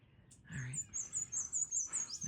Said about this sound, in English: Good morning, birds.